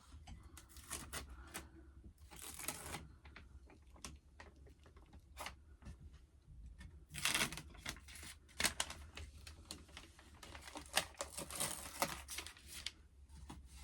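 Screen printing stencil film being peeled away from a screen in a shed, giving a run of crackly tearing and crinkling bursts with irregular sharp clicks, fairly quiet over a low steady hum, no voice.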